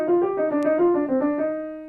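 Right hand plays a fast run of sixteenth notes on piano, close and clear, the even articulated notes flowing in a smooth connected line for under two seconds.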